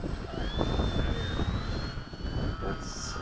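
A model T-bird jet with a kerosene-fuelled turbine flies in to land at Bayside, its steady jet roar and rising high whine holding continuously from a moderate distance under outdoor noise.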